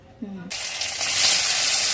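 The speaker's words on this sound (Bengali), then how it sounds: "মা এই পনিরটা আলু দিয়ে ভেজে নিবে" Paneer and potatoes hit a hot pan with a sudden, loud burst of sizzling that keeps crackling steadily and grows slightly stronger. A short vocal sound comes just before.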